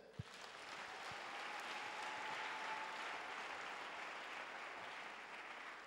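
Sustained applause from a church congregation acclaiming the Lord during a sermon, a dense, steady wash of clapping that fills the room for several seconds, with a faint sustained tone running beneath it.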